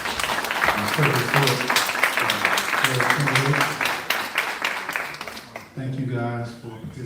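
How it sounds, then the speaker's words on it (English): Audience applause at a Thornton Township Q&A event: close, steady clapping spread across the stretch, mixed with someone speaking over it and easing off near the end. "give a round of applause to"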